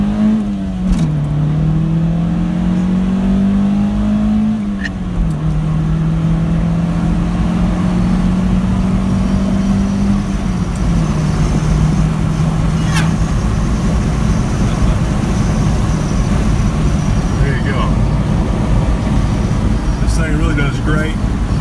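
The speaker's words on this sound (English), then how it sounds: "Here's a start off though. Bunch of wheel spin." A 1989 Acura Integra accelerates hard from a standstill with a bunch of wheel spin, its engine note loud and close, rising and dropping through several gear changes, then settling into a steady road roar.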